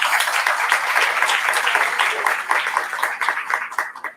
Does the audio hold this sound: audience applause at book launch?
yes